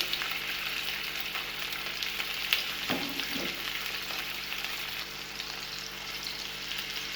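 Chicken seekh kebabs filled with cheese fry in a pan with a strong, steady sizzle, and a couple of soft knocks come as the kebabs are turned.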